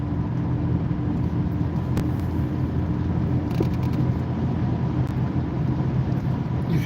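A car cruising at about 60 on the highway gives a steady low road rumble and engine drone from inside the cabin, continuous with a few faint clicks and no talking.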